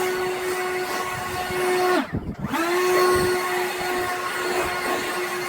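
Leaf blower clearing grass debris off a lawn edge groove after line trimming, a continuous close whine and rushing air with a brief dip in pitch partway through as the throttle drops and revs back up.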